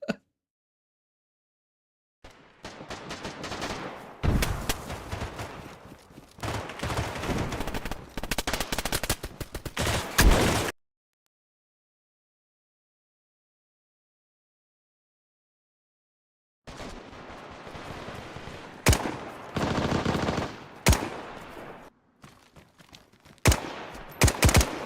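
Gunfire in the video game DayZ comes in two loud clusters of rapid shots and bursts, separated by several seconds of complete silence, with no talk.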